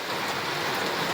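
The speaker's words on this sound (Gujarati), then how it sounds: "અમારા ગામમાં તો જો છે નેવા ધાર થઈ ગયા" Rain pours steadily in a village and runs off the roof eaves in a dense, even rush of water that fills the whole stretch at a constant level.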